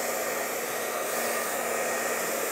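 Remington hair dryer drying hair, a loud steady whooshing blow with a constant motor hum, running alone without any talk.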